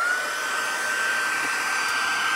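Heat embossing tool on its high setting, melting embossing powder into a silvery glossy finish for a Christmas lights craft: a steady, loud, close blowing roar with a high whine, running unbroken throughout.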